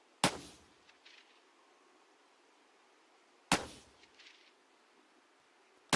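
Two sharp, loud M16 rifle shots ring out in the PUBG Battlegrounds video game, spaced about three seconds apart, each followed by a short metallic clang and decaying echo, with a third shot beginning at the end.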